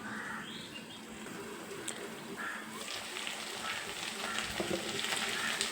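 Potatoes coated in chili powder fry in a pan for a Kerala-style stir-fry, a soft, steady sizzle with occasional stirring scrapes, fairly faint and with no talking.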